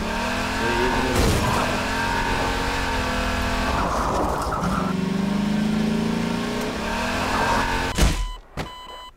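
A buggy in Garry's Mod drives with a revving engine rising and falling through several surges, a skid and bursts of impact noise, ending abruptly in a short crash and quiet.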